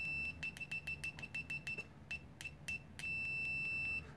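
A cheap VC3267A clamp meter beeps for continuity as probe leads touch, a rapid stutter of short chirps followed by a couple of longer sustained tones, clear over faint room hum.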